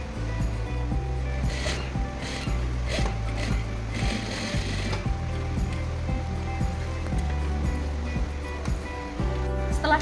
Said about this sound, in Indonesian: Kemudian kita jahit.